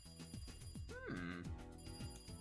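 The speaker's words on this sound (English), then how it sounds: "right then the phone rang" An old telephone bell rings in the Higurashi visual novel, a loud trilling ring laid over busy background music with swooping tones.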